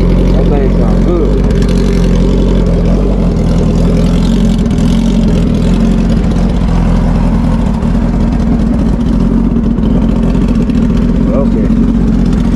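A 2000 Suzuki GSX1300R motorcycle engine idles steadily and loudly close by, a constant low rumble running throughout while people talk over it.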